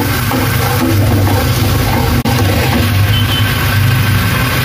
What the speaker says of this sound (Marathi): थोडंसं पाणी टाकते मी आधी।